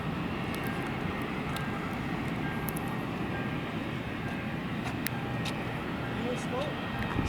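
An American Airlines jet at El Paso airport, heard from a roadside by the field, gives a continuous broad engine roar that holds loud and even for the whole stretch, with light scattered clicks on top.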